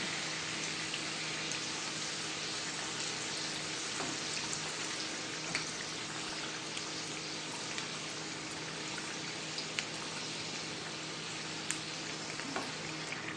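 Steady, dense crackling sizzle of food frying in hot oil, with scattered sharper pops over a constant hiss; no talking.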